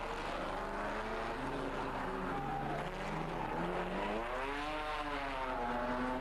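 A Bugatti Type 35B vintage racing car at the Monaco Historic Grand Prix, engine note rising and falling in a loud continuous whine as it passes, with no talk.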